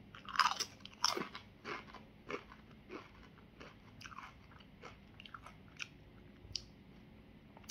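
Crunchy Doritos are chewed close to the mouth: sharp bites open the sequence, then a steady run of crisp crunches fades gradually softer, with no talk.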